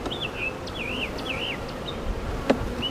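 Honey bees at a beehive give a steady close buzz, while a bird whistles in repeated wavering phrases above it and a brief knock sounds near the end.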